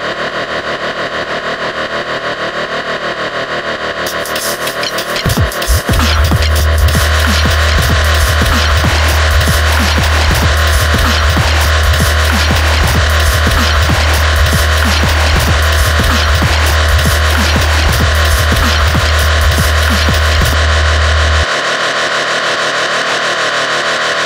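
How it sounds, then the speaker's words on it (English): A sustained droning tone sweeps slowly through a soft, swirling comb-filter shimmer from a Boss RC-505 Loopstation chorus effect set as a soft flanger, steady and loud, then cuts off abruptly near the end. "you can use this to create a less harsh flanger with a rate of 4 measures"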